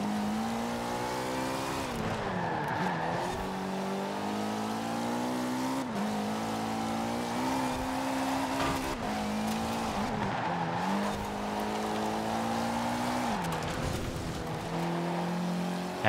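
Forza Horizon 4 car engine droning steadily throughout, pitch sliding down and up as it shifts and corners, with brief tire squeal on exits from bends; no talking.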